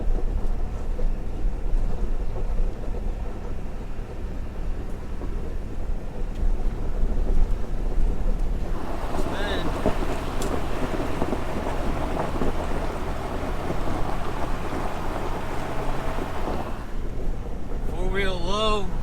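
A Ford Powerstroke pickup truck labours up a steep hill while towing, its low engine rumble steady and close under wind buffeting, with people talking over the drone.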